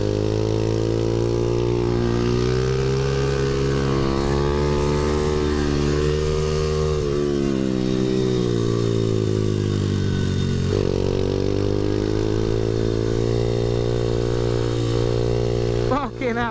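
A supermoto pit bike screams around a race track, its small engine holding a loud, buzzing high-revving note that rises and falls through the corners. It carries on close and unbroken throughout.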